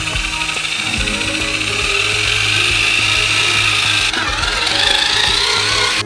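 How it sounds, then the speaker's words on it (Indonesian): A large mixer churning a giant batch of homemade Kinder Country dough; a loud continuous mechanical whir with grinding, rattling texture and a slight shift in pitch partway through, close and steady, with no talking. "Dan sekarang semua ini perlu dicampur dengan mixer besar."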